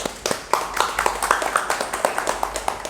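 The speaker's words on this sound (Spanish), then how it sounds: "Démosle la bienvenida con un aplauso." A small audience at a library talk claps to welcome Víctor Zuluaga, a modest round of distinct, separate claps at a steady pace, fairly close.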